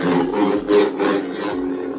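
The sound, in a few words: lightsaber swing sound effect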